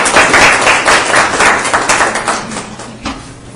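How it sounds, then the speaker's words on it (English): An evening audience at a talk gives a round of applause to welcome a group from UC Davis, a loud, close burst of many hands clapping that gradually thins and tapers off. "So please give them a round of applause and welcome."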